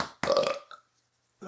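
One loud, short burp rises abruptly, followed by a brief trailing sound and then silence, with another noise starting right at the end.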